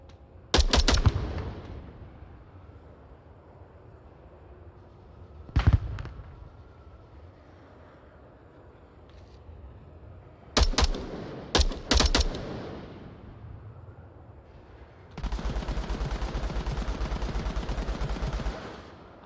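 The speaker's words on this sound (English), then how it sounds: "Lots of shots back and forth." Back-and-forth gunfire in the VR shooter Onward during a competitive match: sharp single shots and short bursts separated by quiet gaps, then a sustained roaring stretch of continuous fire near the end.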